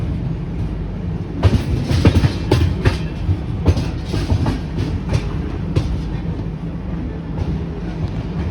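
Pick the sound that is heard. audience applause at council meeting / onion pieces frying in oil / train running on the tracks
train running on the tracks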